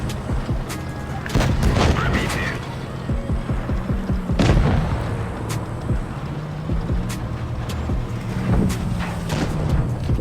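Tank cannons fire during a World of Tanks Blitz battle: several loud, sharp booms and impacts over a constant rumbling engine-and-battle bed, with the shots spaced a few seconds apart.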